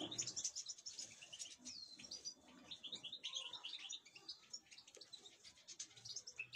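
Many goldfinches chirp and twitter in quick, overlapping bursts, fairly close, as they feed on seed, with a steady low rustle of background noise beneath.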